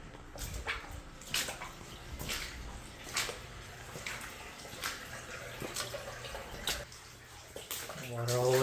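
Storm drain backup water flooding a basement laundry room, with water coming in under a shower and damaged drywall, sounds as a steady trickling and splashing wash with intermittent sharp knocks and movement while people talk.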